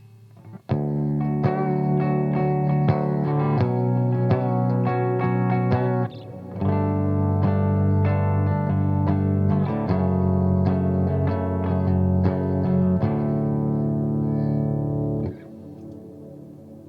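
Electric guitar chords and single notes through a Kemper amp's formant reverb effect ring out with a heavy, washy reverb tail; playing continues steadily with a brief pause midway before fading out.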